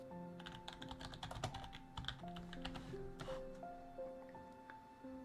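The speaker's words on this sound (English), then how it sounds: "You're gonna hear clicking, so." Rapid clicking of computer keys in uneven bursts, close but soft, over a faint background hum with some steady tones.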